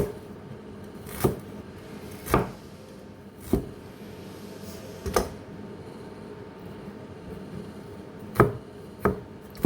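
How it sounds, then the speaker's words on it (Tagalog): A knife slices through ginger on a cutting board, giving about seven sharp, separate chops at an uneven, unhurried pace, close and clear against a quiet background. "Slice natin itong luya."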